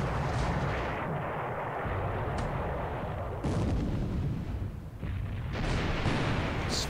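Naval gunfire in the WWII strategy game War in the Pacific as heavy cruisers trade hits at close range: a dense, continuous barrage of loud booming artillery blasts with rumbling overlapping explosions, a few sharper bursts standing out, no talking.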